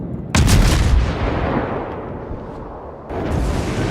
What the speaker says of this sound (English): Fire your high explosive shells.